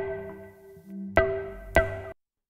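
The first synth layer of the hard chain group, a simple patch in Ableton, holds sustained pitched tones joined by two sharp bright hits spaced about half a second apart, then cuts off cleanly.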